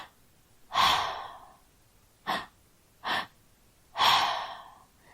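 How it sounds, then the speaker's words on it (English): Breathwork sequence demonstrated alone: a long airy inhale from the belly, two shorter sharp inhales, then a long breathy exhale through the mouth, close and clear against silence. "It's inhale from the belly, inhale through the chest, and then an exhale through the mouth."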